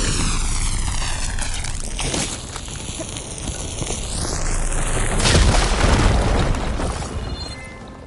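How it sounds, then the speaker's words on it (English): A fire gleam deposit blows up in Horizon Forbidden West on PS5: whooshing, sweeping tones give way to a deep, loud booming burst midway that rumbles and slowly fades, with no talking. "Should be able to blow up that fire gleam."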